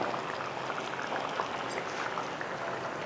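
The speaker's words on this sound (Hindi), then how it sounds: "सबसे पहले इसमें दही डाल दें।" Yogurt going into a mutton karahi in an iron wok, a steady bubbling sizzle of hot liquid with a soft pouring wash, fairly quiet and continuous.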